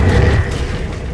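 Incendio fire spell cast in Hogwarts Legacy on PS5: a heavy, booming blast with a deep rumble that fills the whole short moment and fades slightly toward the end.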